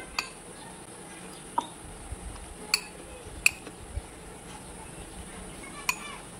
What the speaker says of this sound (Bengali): এবার আমি সব কিছুই ভালো করে মিশিয়ে নেব।